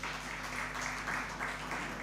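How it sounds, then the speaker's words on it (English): Hands clap in a conference hall at a legal pro bono summit, a soft muffled patter of applause heard distantly over a low steady hum, faint and continuous. "I think we should clap hands for that."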